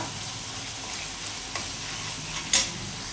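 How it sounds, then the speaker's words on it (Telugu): Masala for a mutton and fenugreek leaf curry frying in a pan, a continuous close sizzle with scraping stirs, a soft knock midway and a sharper clatter near the end, no voices. "ఈ మసాలా అయితే బాగా ఫ్రై అవ్వనిద్దాం మాడపట్టకుండా"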